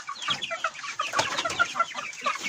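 A flock of chickens clucks busily nearby while eating kitchen vegetable scraps, overlapping soft clucks and chatter in a continuous, lively stream.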